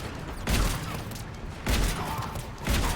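Heavy rifle shots in the Mass Effect sci-fi shooter game, three loud booming blasts spaced about a second apart, each with a broad crack and a lingering rumbling tail.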